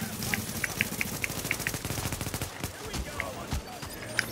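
Rapid automatic turret fire from an incendiary turret in Tom Clancy's The Division, a steady rattling burst with crackling fire-like noise and scattered game effects, fairly close, with a voice briefly speaking over it.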